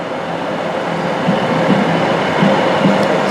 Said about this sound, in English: Two trains arriving in now.